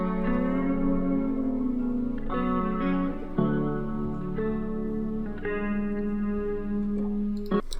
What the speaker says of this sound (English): I decided to actually pitch both the guitars down by 300 cents